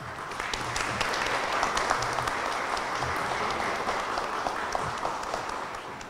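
Audience applause at an evening book launch event, a steady wash of many hands clapping for about six seconds, fairly even and moderately loud without pauses.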